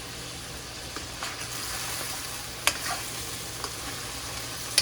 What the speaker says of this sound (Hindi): अभी इसको मैं फ्राई कर रही हूँ।